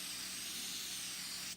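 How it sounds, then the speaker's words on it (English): A steady, close hiss of hairspray sprayed onto a lipstick-stained shirt, one continuous burst of about a second and a half that cuts off abruptly at the end. "you spray that with hairspray."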